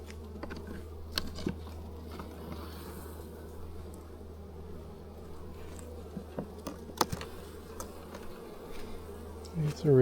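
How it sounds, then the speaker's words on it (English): Honey bees buzz steadily in an opened hive in the remote New Zealand bush, a close, continuous drone with scattered faint clicks and taps from handling the hive. "It's a reasonable sized little hive."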